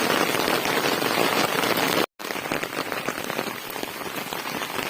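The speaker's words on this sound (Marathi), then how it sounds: "किती जोरात पाऊस चालू आहे ते तुम्हाला दिसतच" Heavy rain pours loudly and steadily over waterlogged farm fields, a dense hiss of drops hammering a surface, broken only by a split-second gap.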